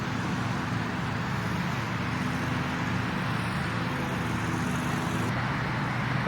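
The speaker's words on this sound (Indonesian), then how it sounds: "suara mobil di jalan karena suasana pada pagi hari" Morning road traffic, with cars passing in a continuous broadband roar that holds steady and moderately loud with no distinct individual pass-bys standing out.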